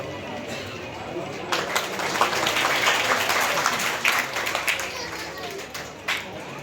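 An audience applauds at an honouring ceremony, with sustained crowd clapping that swells and continues for several seconds, moderately loud, while a voice on a microphone speaks over it.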